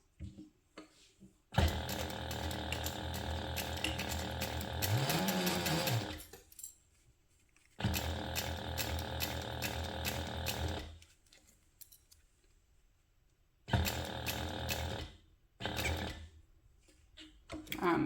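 A sewing machine runs in several bursts of rapid mechanical stitching while sewing a seam on bag webbing, close and fairly loud, with short quiet pauses between runs.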